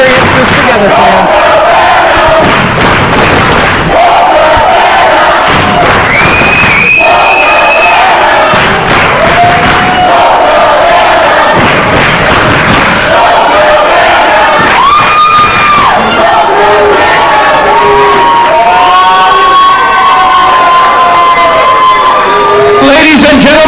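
A wrestling arena crowd at an NWA World Heavyweight Championship match roars and cheers continuously, loud and dense throughout, with swelling shouts and chants and a few rising whistle-like cries over the din.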